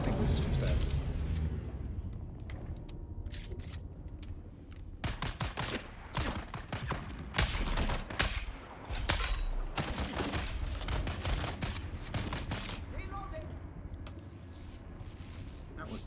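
Rapid bursts of gunfire in the desert-planet shooter Dune: Awakening, loud and dense volleys cracking in clusters with brief lulls, a voice talking faintly underneath.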